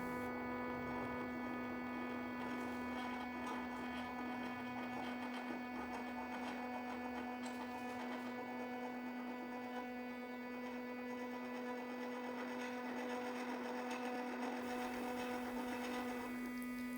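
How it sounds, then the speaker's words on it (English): Motorized plunger of a prototype dog-treat extruder pushing mix through its vessel toward the nozzle, a steady close mechanical whine and hum with a strong tonal drone, running continuously and unchanged throughout. "During pre-extrusion, the plunger moves through the vessel until mix begins to exit the nozzle onto the baking tray."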